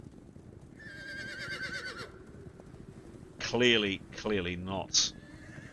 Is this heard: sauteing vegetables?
no